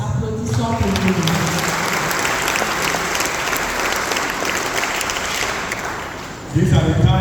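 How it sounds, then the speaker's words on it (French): A church congregation applauds together during a sermon, steady dense clapping that fills the space for several seconds before a voice returns at the end. "Let us put our hands together for ourselves."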